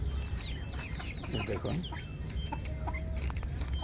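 Native deshi chickens on a farm cluck and call repeatedly at close range, a steady busy flock chorus with a brief spoken word over it.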